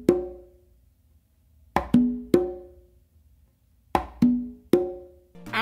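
Open tones and slaps on a conga and tumba in an Afro beat pattern: sharp hand strikes with ringing tones, grouped in two phrases of three hits separated by pauses, close and alone.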